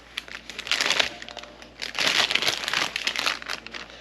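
A plastic bag holding thawed chicken crinkles and rustles in two long bursts, close and fairly loud, with brief quieter handling between them.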